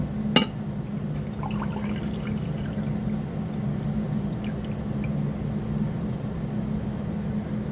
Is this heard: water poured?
yes